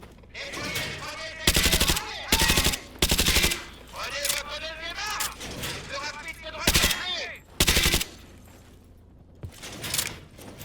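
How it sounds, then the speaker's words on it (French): Repeated bursts of UMP 45 submachine gun fire in Call of Duty Modern Warfare 2 Campaign Remastered, five or six loud, short automatic volleys. Someone speaks between and under the shots. "Oh, l'UMP 45. Mon arme favorite. Allez, on reteste avec l'UMP."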